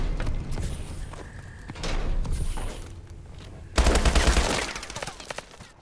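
Gunfire from the video game Call of Duty: Advanced Warfare, a burst of rapid automatic shots in the middle of an otherwise busy game soundscape, loud and close with a few lighter thuds after.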